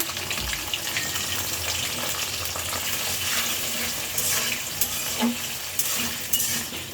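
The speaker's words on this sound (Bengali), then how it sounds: "এটাও মশলা পেঁয়াজের সাথে ভেজে নিব" Steady, loud sizzling of chopped onions with cinnamon, cardamom, cloves and bay leaves frying in hot oil, with occasional scraping stirs from a utensil over the hiss.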